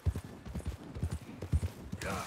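Horse hooves clip-clop at a brisk, even pace in the video game Red Dead Redemption 2, close and fairly loud, with a short swell of other noise at the end.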